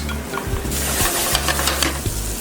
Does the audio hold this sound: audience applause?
no